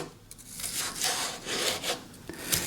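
A knife slicing through sweet red pepper on a board, a series of quiet rasping cuts in an irregular rhythm, close and alone.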